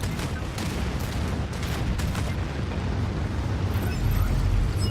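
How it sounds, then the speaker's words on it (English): A nuclear missile explodes in the city-building game Anno 2205, producing a sustained, loud, dense roar with crackling bursts that swells slightly toward the end. "Nuclear missile."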